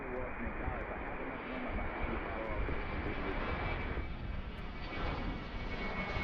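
An airliner, Southwest flight 1241, departs runway 1 at Washington Reagan National Airport, its jet engines a loud, sustained roar that holds steady and close throughout.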